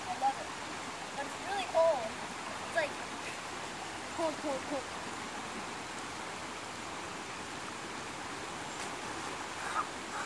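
River water flows steadily at Bell's Mill near Roxborough, a broad continuous rush of moving water with a few faint bird chirps, while people talk quietly in the background.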